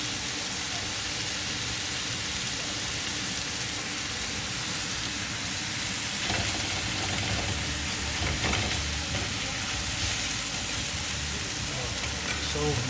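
Chorizo being broken up and fried in a pan for breakfast tacos, giving a steady, dense sizzle that runs the whole time, with a few louder scraping stirs partway through.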